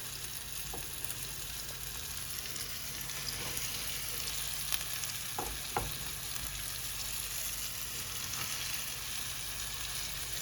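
Chicken cutlets frying in a preheated pan, a steady close crackling sizzle throughout with a few faint clicks, no voices.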